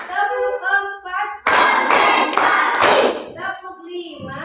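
A classroom group claps in a counted routine: about three sharp bursts of clapping in quick succession, with a voice speaking before and after.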